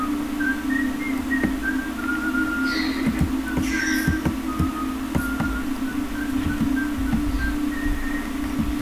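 A melodic whistled tune from Minecraft game music plays over a steady electronic hum, with light rhythmic tapping and clicks underneath.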